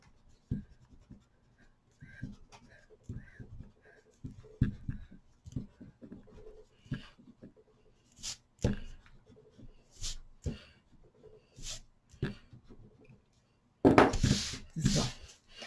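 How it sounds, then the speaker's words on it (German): Pencil markings rubbed off with an eraser on a papercraft hexagonal gift box, heard as short, scratchy rubbing strokes in quick bursts, close and fairly quiet, ending in a louder rustle of handled paper. "Die radiere ich einmal schnell weg."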